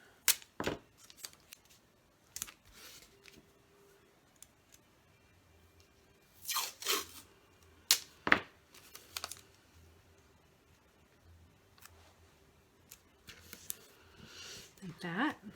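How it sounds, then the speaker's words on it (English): Adhesive tape is pulled and torn off for a cardboard cereal box drawer project, giving a few brief sharp ripping bursts with quiet gaps between them, close up with no talking. "So we're going to quickly add some tape here."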